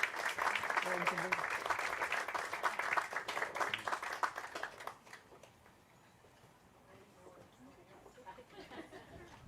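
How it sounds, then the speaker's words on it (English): Audience applause at a YMCA annual meeting: dense clapping fills the first five seconds, then fades to a thinner patter with some background chatter. "So please give a big round of applause for Kathleen Hunt."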